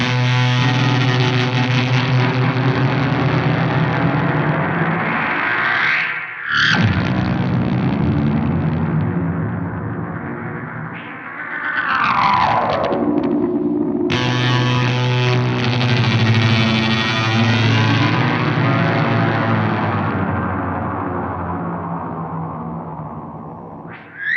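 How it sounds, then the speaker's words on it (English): Heavily distorted, loud tones swoop down in pitch, drop out, then ramp back up, the whole sound bending like a reel-to-reel tape slowing and speeding up, made with delay, reverb and fuzz pedals. "I just had to show you some of those crazy reel-to-reel sounds"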